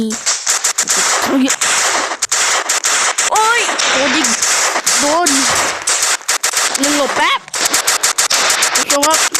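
Gunfire in a Roblox World War 1 battle game rattles almost continuously in loud, rapid bursts, with automatic fire and single shots mixed close by, while someone talks over the shooting.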